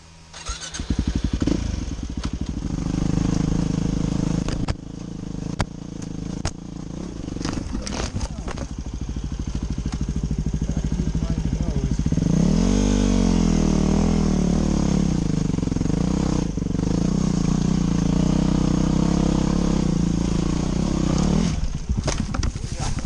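Dirt bike engine idling and revving in first gear, a loud, close, steady mid-pitched drone that rises and falls in pitch with a strong rev near the middle, with people talking over parts of it.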